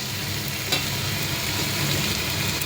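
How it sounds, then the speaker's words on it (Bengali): Onion, capsicum and tomato frying in hot oil in a wok for chilli chicken, a steady dense sizzle throughout with one brief louder crackle near the start, no voices. "তেল গরম করে কাঁচা পেঁয়াজ, ক্যাপসিকাম, টমেটো দিয়ে দিচ্ছি"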